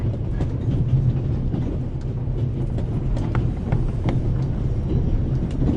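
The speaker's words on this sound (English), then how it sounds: "The noise on this train is driving me crazy." Onboard noise of the Orient Express: a loud, steady rumble of rolling carriage wheels with faint rattles and clacks running through it, and no one speaking.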